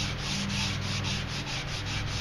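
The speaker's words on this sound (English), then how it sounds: "finish sanding up your whole all four of your sides" A wooden strop handle is sanded by hand with sandpaper, a close, steady rhythmic rasping of strokes back and forth with no pauses.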